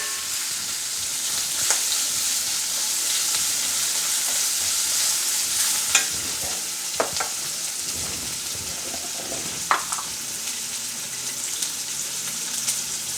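Onions sauté in a pan for a festive Pongal meal, a steady bright sizzle with occasional scrapes and stirs of the spatula, close and continuous with no talking.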